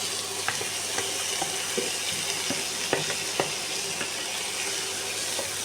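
Boiled corn kernels being stirred with butter in a hot pan, giving a steady soft sizzle with scattered scraping clicks of the spoon, close and continuous with no talking.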